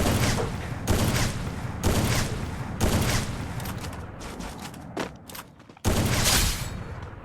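Sniper rifle fire in the mobile game Free Fire, roughly six loud, sharp shots spaced about a second apart, each followed by a brief echoing tail, with a few smaller clicks and cracks between them.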